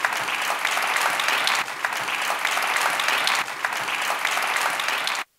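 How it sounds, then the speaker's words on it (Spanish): An audience at a diabetes talk applauds a speaker invited to the stage, a loud, even burst of clapping with brief dips that stops abruptly at the end. "Un aplauso."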